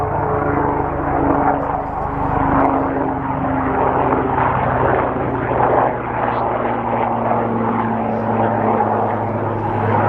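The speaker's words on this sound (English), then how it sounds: "Yeah, that's just a helicopter." A helicopter's steady droning roar with a throbbing rotor beat fills the air continuously, loud and close as it passes overhead.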